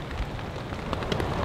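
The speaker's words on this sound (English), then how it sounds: "It started last night with sleet and transitioned to freezing rain." Freezing rain falls through a winter storm at a campsite, starting out as sleet and leaving everything coated in ice. It makes a steady, dense patter of fine drops landing on surfaces, with no voices.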